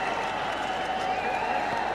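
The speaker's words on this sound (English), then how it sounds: "there's a little bit of a cheer that goes out with every delivery" A cricket crowd at a tense, thrilling India versus Australia finish sends up a steady, broad roar of cheering and clapping, dense and sustained throughout, with no single voice standing out.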